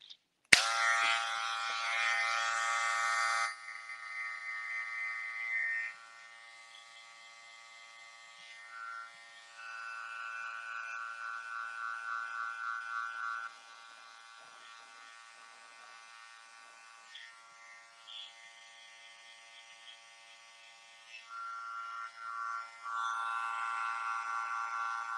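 An electric hair clipper buzzes while cutting and softening lines in a modern textured men's cut, a faint steady hum that repeatedly drops and returns as the blade is angled and lifted from the hair.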